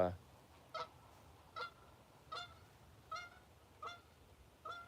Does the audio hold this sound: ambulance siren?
no